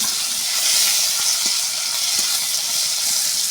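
Dried red chillies and panch phoron five-spice hit hot oil in a home kitchen, giving a steady, bright, close sizzling hiss that runs unbroken for the whole stretch with no voices.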